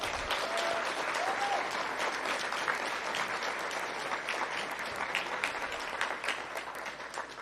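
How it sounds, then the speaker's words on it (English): A library event audience gives a round of applause for the library staff, sustained crowded clapping filling the room evenly for several seconds without speech. "join me in a round of applause for all our library staff."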